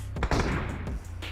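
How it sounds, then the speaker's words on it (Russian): A gunshot in a competitive online shooter game, a single punchy burst with a low thump and a short rumbling tail, close and moderately loud against steady game noise. "Оу, все-таки Тойон делает хороший выстрел из 24."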